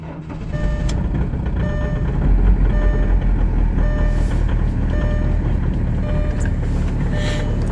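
An Audi A4 B7 TDI diesel idling right after a cold start at -23 degrees, with a steady, close, rumbling clatter and regular beeping chimes repeating over it.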